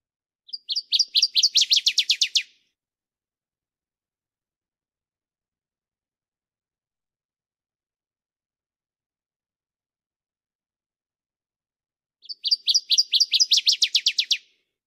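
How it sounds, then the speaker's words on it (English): A northern waterthrush sings two loud, clear bursts of rapid, ringing chirps, each lasting about two seconds and separated by a long silence. "So that's the northern water thrush."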